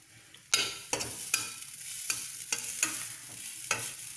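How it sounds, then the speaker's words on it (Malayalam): Grated coconut tossed into a hot pan for a sweet banana snack filling, a soft sizzle broken by a series of sharp scraping stirs at uneven intervals, close and with no voices. "ഇനി ഞാൻ ഇതിലേക്ക് മിക്സ് ഉണ്ടാക്കാനുള്ള തേങ്ങ ഇട്ടു."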